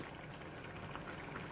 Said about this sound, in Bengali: মিনিট 2 ফুটতে দেব।